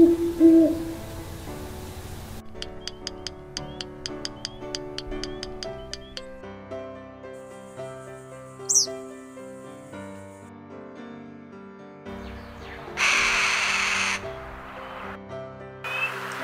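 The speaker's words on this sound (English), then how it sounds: "Here are some recordings and spectrograms of birds doing these different sounds." A sequence of different bird calls, hoots, caws and buzzy notes, one after another with short gaps, clear and fairly close.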